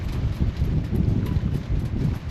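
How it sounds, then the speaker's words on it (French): Wind rumbles against the microphone in a steady, moderate low buffeting throughout the short stretch on a boat at Sète facing the Étang de Thau, with no talking. "Il y a un peu de vent, hein."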